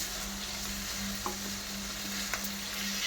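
Masala pasta ingredients with chopped tomato being stirred in a pan, a steady soft sizzle under a low constant hum, with faint scraping strokes of the spoon now and then.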